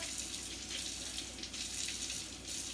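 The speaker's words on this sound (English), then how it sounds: "I was just filling up the sink to wash dishes" Hot water runs from a kitchen faucet into a filling sink, a steady soft gushing stream with no voices, fairly quiet and continuous.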